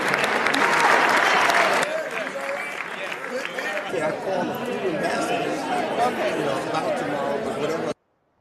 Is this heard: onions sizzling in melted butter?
no